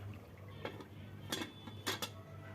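A lid set onto a pot of hotel-style chicken stew, giving a few faint clinks and rattles of metal cookware in a quiet kitchen with no talking.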